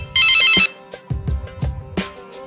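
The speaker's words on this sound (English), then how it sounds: "I need to call Eleanor right away." A phone rings during an outgoing call. A bright electronic ringtone sounds briefly at the start, then gives way to low, muffled thumps and faint noises.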